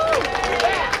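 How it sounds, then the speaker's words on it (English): An audience at an African heritage celebration claps and cheers for a district attorney, a brief burst of crowd applause mixed with voices and babble. "Give her a round of applause."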